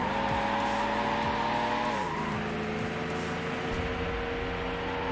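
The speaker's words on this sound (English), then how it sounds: "I love the lower rumble of the V8 in the HSV." The HSV's V8 engine rumbles in Need for Speed Hot Pursuit 2, a steady, loud drone that drops in pitch partway through as the car corners, with faint tyre squeal mixed in.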